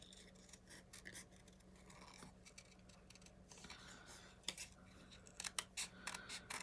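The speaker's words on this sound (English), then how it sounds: "So we're just going to do very carefully and very gingerly is how we're going to cut out that handle." A rubber rain boot has its handle carefully cut out: faint, slow snips and small crisp clicks come one after another in a quiet room, with a few sharper cuts near the end.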